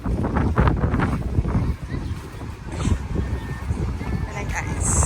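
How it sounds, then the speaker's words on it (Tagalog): Strong wind buffets the microphone in loud, rough low gusts that swell and ease continuously, with voices faintly mixed into the roar, on the boardwalk at Ocean City by the beach. "Malakas yung hangin."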